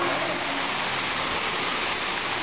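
A waterfall pours in a steady, dense rush of falling water that stays constant and loud throughout, with no voices over it.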